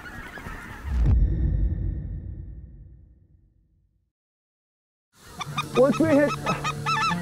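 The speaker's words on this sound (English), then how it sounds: "let's get these geese here" Geese on a duck and goose hunt let out a burst of overlapping honks near the end, after a brief spoken line at the start and a few seconds of near silence.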